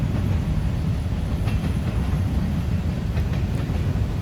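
A long freight train of boxcars rolls past on ballasted track on a sunny day, a loud, steady rumble with rhythmic wheel clatter over the rails, close by and continuous without speech.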